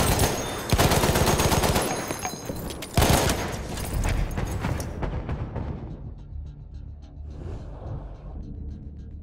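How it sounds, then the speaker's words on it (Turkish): Sustained machine gun fire in the first-person shooter Battlefield 1, loud and dense bursts of rapid shots with a heavy crack near three seconds, then thinning into more distant scattered gunfire toward the end. "Makinalı tüfek var"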